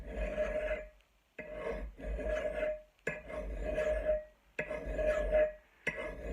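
Metal file sharpening a rusty axe blade: five long rasping strokes, each about a second, separated by brief pauses, close and fairly loud, with no talk.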